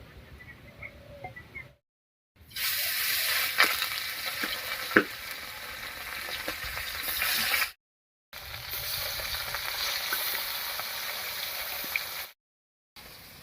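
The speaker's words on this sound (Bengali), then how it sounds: "মাছটা মাখা হয়ে গেছে এবারে ভেজে নিচ্ছি" Pieces of seasoned river bata fish fry in a pan with a loud, continuous sizzle and crackle, broken by two brief silent gaps, with occasional stirring clicks and no voices.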